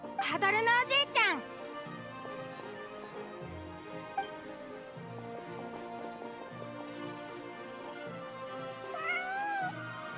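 A cat in a video game gives a loud wavering meow at the start, then a fainter, shorter meow near the end, with game music playing steadily underneath.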